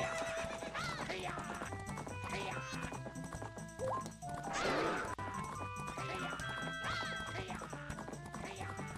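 Horses neigh and whinny in a Majora's Mask horse race, with clip-clop hooves galloping beneath game music and a sharp crash midway; the neighs stand out loudly near the middle.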